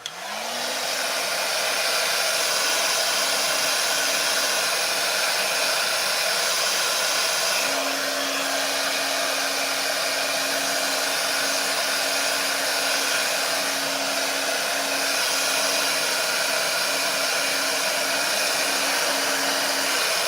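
A hair dryer blows continuously and loudly at close range while drying a lace wig, a steady rushing roar with a constant motor whine and no pauses for the full twenty seconds.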